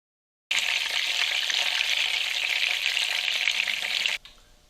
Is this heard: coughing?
no